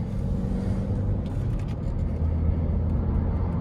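A 2015 Elite estate car cruising along a dual carriageway, heard from inside as a steady low road rumble and engine drone with no talk.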